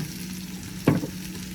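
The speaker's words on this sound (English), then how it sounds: "You can hear it sizzle a little bit more" Shredded potato bites sizzle in olive oil in a pan with a steady low crackle close by, and a brief louder stirring or shifting sound rises midway.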